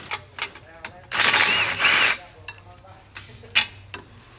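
A hand ratchet removes 12 mm bolts under a Nissan 370Z's rear end, with close metallic clicking, a louder burst of rapid ratcheting and scattered clinks of tools.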